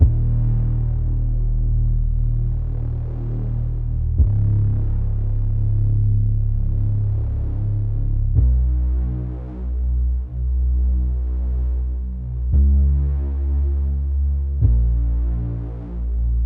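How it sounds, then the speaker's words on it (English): Heavy, distorted synth bass playing a throbbing low line with sustained notes that shift pitch every few seconds, loud and alone. "for the bass, you want something pretty heavy with some decent distortion"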